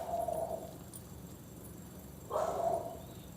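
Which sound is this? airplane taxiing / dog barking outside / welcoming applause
dog barking outside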